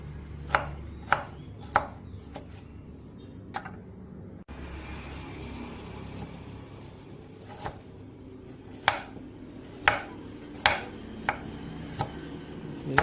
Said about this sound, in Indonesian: cacah kecil-kecil supaya lebih mudah di blender.